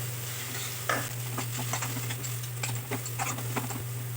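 Fried onions with Kashmiri chilli powder are stirred in a hot pan for a chicken kosha, with repeated close scraping strokes over a steady sizzle and a low hum beneath.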